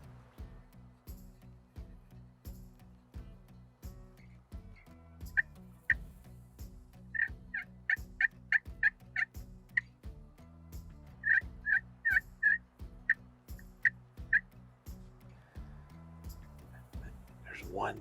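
Merriam turkeys gobble in quick rapid-fire bursts, repeated in two clusters, heard in the open during a hunt over decoys. Low murmuring sits underneath.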